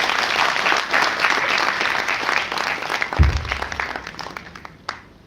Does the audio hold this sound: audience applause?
yes